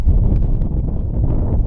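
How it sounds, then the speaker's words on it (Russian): Strong wind buffets the microphone on a river as a small fishing boat drifts downstream, a steady low rumbling roar that never lets up, with no voices. "Сильный ветер тащит, потихонечку сплавляюсь."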